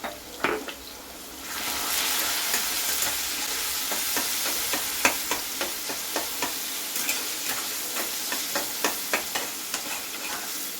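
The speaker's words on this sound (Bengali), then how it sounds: "এই আলুগুলো মোটামুটি ভাজা হয়ে গেছে" Potatoes fry with turmeric and salt in a steady, moderate sizzle, punctuated by a regular series of sharp spatula taps and scrapes against the pan.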